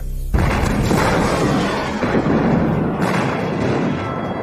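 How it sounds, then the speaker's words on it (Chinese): Heavy artillery bombardment in a war drama, as troops storm a city: a loud, sustained barrage of deep booms and rumbling blasts starts abruptly and rolls on without pause, with no voices. "炮兵轰击敌人阵地"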